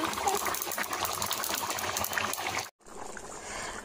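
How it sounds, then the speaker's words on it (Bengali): Chicken simmers in a pot as a dense, steady bubbling and sizzling hiss runs unbroken, cuts out abruptly for a moment near the end, then resumes at a lower level. "দেখছো বন্ধুরা কিভাবে ফুটছে মাংস"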